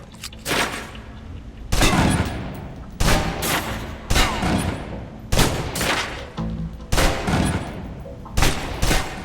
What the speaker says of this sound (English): let's move on to the submachine gun. Now let's empty the clip.